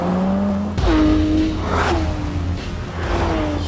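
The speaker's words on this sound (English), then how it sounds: "Straight away, I can tell you the engine is incredible. There's no turbocharging, it's just a 4-litre flat 6" A Porsche 911 GT3 RS with a naturally aspirated 4-litre flat-six engine drives past loudly, its revs rising and falling through several gear changes with a whooshing pass.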